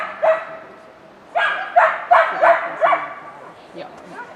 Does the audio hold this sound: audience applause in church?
no